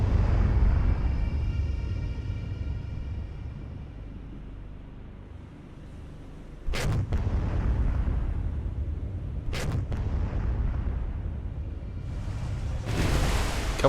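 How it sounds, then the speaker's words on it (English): Cruiser guns fire in the naval video game War on the Sea over a steady low engine and sea rumble, with two sharp heavy blasts a few seconds apart and a third burst near the end. "So let's start to return fire."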